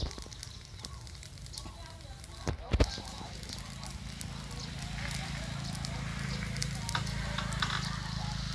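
Burning straw used to grill snakehead fish crackles and hisses steadily outdoors, with sharp pops and a strong crackle near the middle, while people talk nearby.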